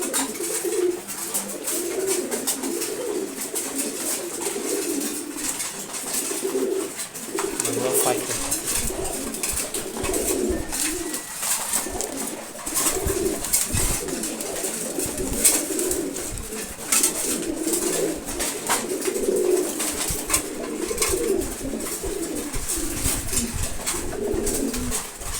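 Pigeons, including a silver racer and a pair of khaki birds, coo repeatedly in a loft at morning feeding time, a steady low murmur of overlapping calls with someone talking over it throughout.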